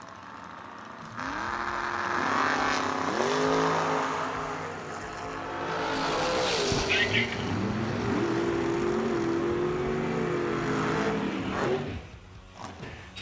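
Dragsters at a Cedar Falls drag race roaring down the strip, loud revving engine passes rising and falling in pitch, with a crowd and a distant announcer.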